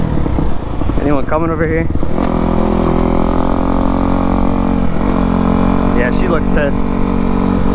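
Kawasaki KX250F dirt bike engine idling and revving loudly up close, with brief throttle blips and people talking over it.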